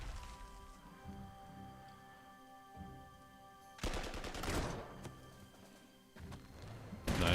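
Artillery bombardment in the war strategy game Panzer Corps 2: loud crackling bursts of explosive fire rise out of a low rumbling backdrop midway through and again near the end.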